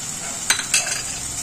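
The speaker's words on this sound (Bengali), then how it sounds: "আমি নাড়াচাড়া করে ভালো করে নাড়াচাড়া করব" A spoon scrapes twice through taro greens in a pan over a soft steady sizzle, close and fairly quiet.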